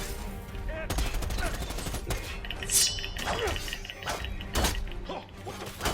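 Gunfire in the Predator video game, including a minigun, with chaotic bursts of shots and metallic clatter, several loud impacts and whooshes mixed into a busy battle, and voices faintly underneath.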